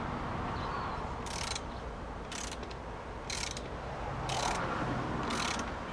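A ratchet tightens bolts on a Kawasaki Ninja 500 tail tidy, giving about five short bursts of clicking set apart by pauses, fairly faint over a quiet room background.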